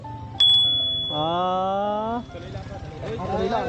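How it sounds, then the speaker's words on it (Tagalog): A bicycle bell gives one sharp ding that rings on as a fading tone, while a voice talks loudly over it and more speech follows. "Kalambangin ang bell."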